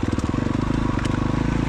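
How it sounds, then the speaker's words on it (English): An off-road vehicle's engine idling on a steep hill, a close, rapid, even pulsing rumble with a steady throb, loud and continuous with no talk over it. "You can hear the engine idling."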